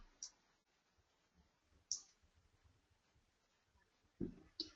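Computer mouse clicks on a desk, several sharp isolated clicks spread apart, with a quick pair near the end like a double click, close and fairly faint against a quiet room.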